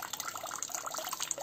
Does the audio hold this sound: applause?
no